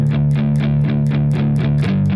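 A distorted electric guitar plays an open power chord riff, palm-muted eighth notes from the verse of a song, with regular accented chugs and a shift near the end, loud and alone.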